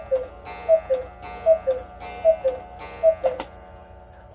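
Regular wooden ticking of a Black Forest cuckoo clock in a traditional hunting-case style, a steady tick-tock rhythm of paired beats, close and clear with no voices.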